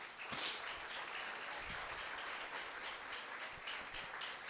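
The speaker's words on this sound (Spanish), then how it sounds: "Den un aplauso al Señor por eso." A church congregation at a Sunday service breaks into applause, a steady wash of clapping from many hands that holds evenly throughout.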